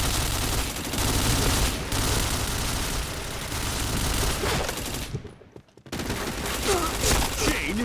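Gunfire in a mobile shooter game, with continuous loud volleys and bursts of shots that break off into a brief silence, then resume, while players talk over the action.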